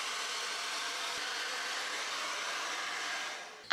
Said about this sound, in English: I have this normal hair dryer